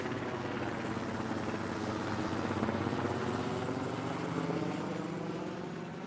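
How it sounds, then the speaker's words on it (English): A radio station news helicopter flies overhead, its steady rotor thrum and engine drone holding throughout, swelling slightly as it passes nearest and then easing off. "is that the KGO radio News Talk 810 copter?"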